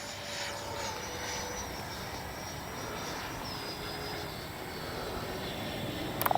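A Freewing 90mm F/A-18C RC jet flies at a distance, its steady electric ducted-fan whine holding level and fairly faint, with small pitch shifts as it passes, no voices.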